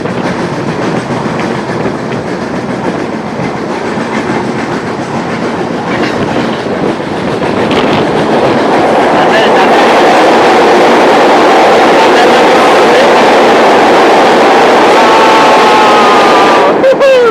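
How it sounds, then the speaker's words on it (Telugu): Grand Trunk Express rolling through hilly country, a loud continuous rumble and rhythmic wheel clatter that builds in intensity, ending with a brief high-pitched screech. "అదే ట్రైన్ అటు పోతుంది, మనదేనా ట్రైన్?"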